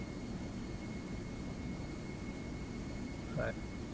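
A FlightFactor 757 airliner accelerates in the X-Plane 12 flight simulator, giving a constant low engine roar and broadband rush with a faint steady tone, and a brief voice-like sound near the end.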